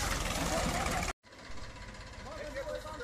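A Mahindra tractor engine runs with a steady, loud mechanical chug. It cuts out briefly, then resumes a little quieter, with a voice talking faintly over it.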